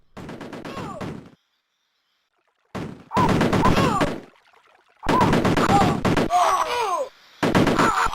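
Rapid bursts of gunfire from the Amiga game Cannon Fodder, loud rattling volleys separated by brief silences, with short shrieks between shots.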